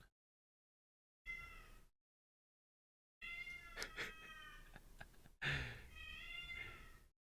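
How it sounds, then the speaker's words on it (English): Several cats meow in separate drawn-out calls, first a lone cry and then a longer run of overlapping, wavering yowls close to the microphone with no talking. "Perhaps the cats would like to contribute some music."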